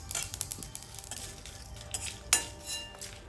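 Spices are roasted and stirred in a pan while cooking stuffed okra; a spoon scrapes and clinks against the metal in quiet, irregular strokes, with a brief louder clatter.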